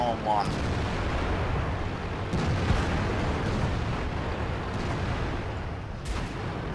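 Tank cannon fire in the World of Tanks video game, with heavy booming blasts and rumbling battle noise that stays loud throughout and has a few sharper cracks, while voices talk over it.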